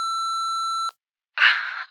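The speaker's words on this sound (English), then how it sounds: "please leave a message at the tone" A voicemail tone in a horror video game: a steady, clean electronic beep lasting just under a second, then a short pause and a breathy, noisy burst.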